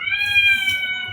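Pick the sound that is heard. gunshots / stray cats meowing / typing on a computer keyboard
stray cats meowing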